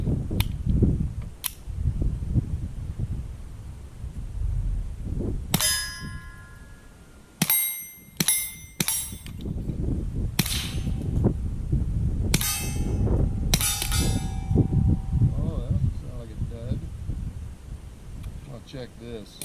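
A firearm fired in short bursts of sharp, loud cracks, each with a ringing metallic tail, spaced irregularly across the span over steady outdoor background rumble and some talk.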